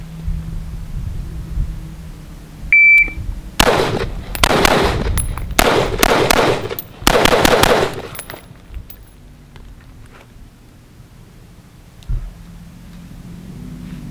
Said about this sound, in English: Engage center target 1 round, left target 2 rounds, right target 3 rounds, center 4.